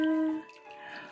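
Hot water running into a bath, heard as a soft, steady splashing flow up close that follows a brief tonal sound at the very start.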